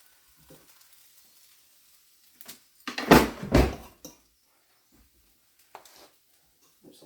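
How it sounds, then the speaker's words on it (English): Potatoes reheating in a hot frying pan give a short burst of loud sizzling lasting about a second, set among quiet kitchen clatter and near silence. "this is how you heat up potatoes if you didn't have a microwave too"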